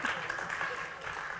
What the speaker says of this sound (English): Let's have a round of applause for a volunteer.